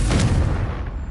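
A Confringo spell explosion from the Hogwarts Legacy game, one loud, deep booming blast with a rumbling tail lasting about a second.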